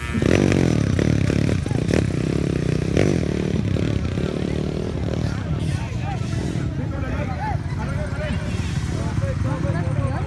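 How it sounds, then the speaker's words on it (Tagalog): 50cc motocross motorcycles racing in a heat at a barangay track, high-pitched buzzing engines revving and whining as they pass, loud and continuous under an excited commentator and crowd chatter. "Ayan, nausa motor ni McGrath"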